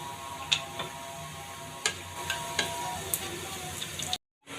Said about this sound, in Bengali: এবার আমি ডাল ফোড়ন দিয়ে নেব।